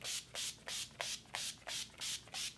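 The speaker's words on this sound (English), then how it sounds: "I'm going to spray this with the Urban Decay All Nighter setting spray" Urban Decay All Nighter setting spray mists out in eight short, even bursts at a steady pace, each a close, bright hiss separated by brief gaps, with no voices.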